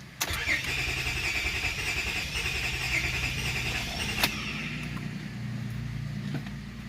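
Close cranking and rough catch of a 2003 Honda Accord V6 engine on its first start after a Power Foam cleaning, with uneven revving for a few seconds that settles into a lumpy idle.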